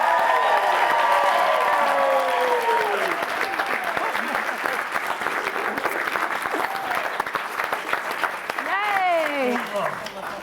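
A lively audience applauds and cheers at a Netflix screening of Running Point, dense clapping sustained throughout with whoops and whistle-like calls rising near the end.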